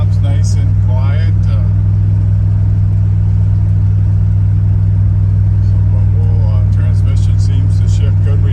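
A 1986 Dodge W100 pickup cruises down the road, its engine a steady droning hum inside the cab as a person talks over it.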